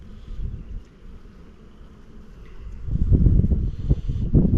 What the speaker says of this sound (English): Plumb full of bees